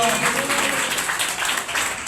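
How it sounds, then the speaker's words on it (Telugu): A church congregation claps loudly together at a Sunday service, a dense wash of hand claps running throughout while a voice speaks over it. "చప్పట్లు కొడదాం బిగ్గరగా హల్లెలూయా."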